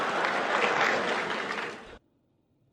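Audience applause in a lecture hall, a dense steady wash of clapping that carries on for about two seconds and then stops abruptly, leaving near silence.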